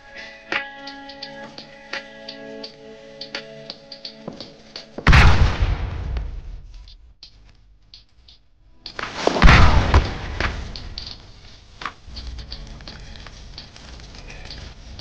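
Rocket explosions in the video game Oxide: Survival Island, two loud booming blasts with rumbling tails, separated by a few seconds, over quieter ticking game sounds.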